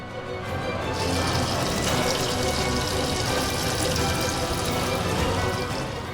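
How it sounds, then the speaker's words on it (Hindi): A bathroom water tap left running: a steady, loud rush of flowing water that continues without a break, with no voices. "ये बाथरूम का नल कैसे टपक रहा है?"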